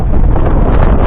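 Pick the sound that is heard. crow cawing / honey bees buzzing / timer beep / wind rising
wind rising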